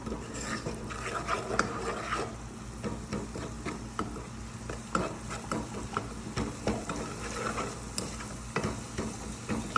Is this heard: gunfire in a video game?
no